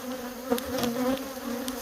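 Angry honey bees buzz in a dense, steady drone around a hive, close to the microphone and continuous throughout with no talking.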